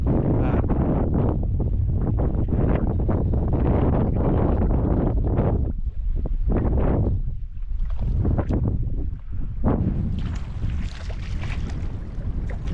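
A boat crosses open water in strong wind on a perch-fishing outing, a loud continuous engine-and-water roar with heavy wind buffeting the microphone, gusting louder toward the end.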